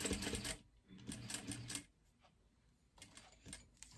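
A sewing machine back stitching a poop bag holder with a number 5 stitch runs in three short rattling bursts separated by quiet pauses, near and fairly soft, with no speech.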